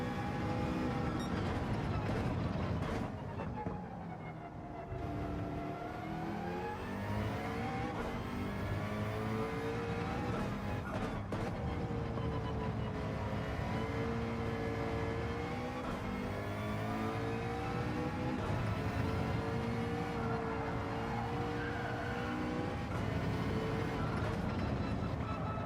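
A Group 3 race car in Gran Turismo 7 drives through a corner, its engine revving and shifting pitch up and down continuously at a moderate, steady level with no talk.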